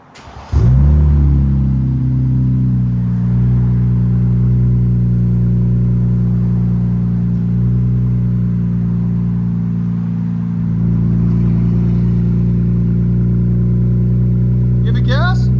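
A 2025 RAM RHO pickup's 3.0L Hurricane inline-six fitted with BIGBOZ 5 exhausts fires up and holds a loud, deep, steady drone close by, with a slight dip and swell midway. Voices are heard faintly at the very end.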